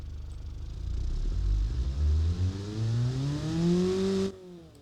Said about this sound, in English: it has the basic spirit of a nice high revving engine